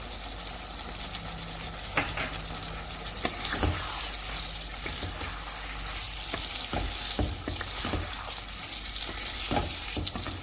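Chicken for honey chilli chicken stir-frying in a pan: steady low sizzle with repeated scraping and clattering stirs, fairly quiet and close, no talking.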